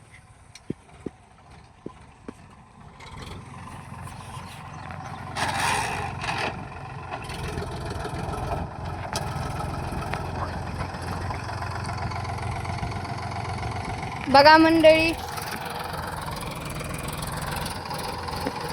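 An 18-year-old farm tractor idling beside a seed-sowing machine: a steady low engine rumble that settles in after a few sharp clicks, with a brief louder scrape near the end. Someone speaks briefly at the start.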